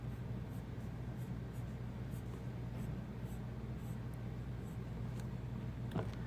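Pencil or pen sketching a function graph on paper during a power series math tutorial, a steady soft scratching that runs throughout over a constant low hum, with one brief sharper scrape near the end.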